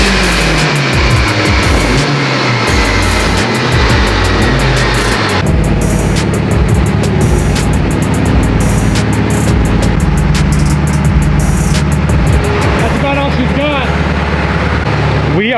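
Loud, sustained roar of a 2019 Subaru STI engine on a chassis dyno, revs climbing steadily through the pull with a brief shift-like break midway and crackling toward the end, close and dominating throughout.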